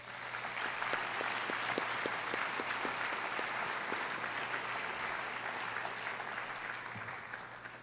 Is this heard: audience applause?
yes